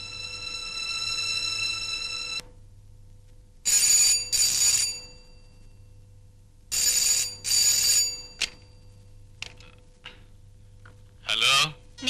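An old-style telephone rings in a quiet room, giving one long bell burst and then several spaced double rings, with a low steady hum underneath and a faint voice near the end.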